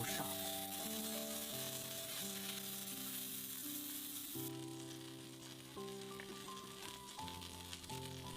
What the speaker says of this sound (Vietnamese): Bít tết tươi chiên trong dầu.